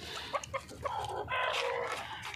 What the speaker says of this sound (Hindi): ये देखो जी, हमारी मुर्गी बीमार थी सुबह से, अब कुछ चलने लगी है।